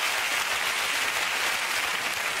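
Steady studio audience applause on a television chat show, a dense continuous wash of clapping filling the whole moment at a fairly loud level with no voices over it.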